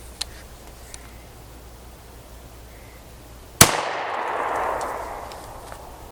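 A 12 gauge double ball shotgun round is fired at a wall: one sharp, loud report that cuts off, followed by a brief rushing decay, with only quiet room noise before it.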